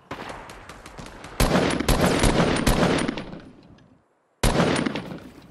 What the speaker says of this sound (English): To the sound of gunfire.